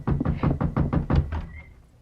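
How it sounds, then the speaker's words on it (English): A run of seven firm knocks on a wooden door in a radio drama, steady and evenly spaced, close and loud, then a short fade with a faint whistle-like tone. "Someone at the door."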